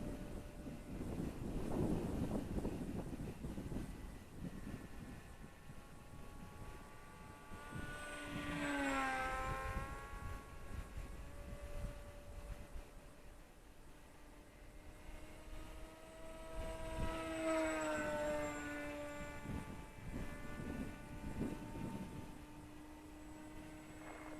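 A Volantex Ranger G2 sport FPV glider with a stock electric motor flies overhead, its propeller whine swelling and fading in long passes under steady wind noise, faint and distant.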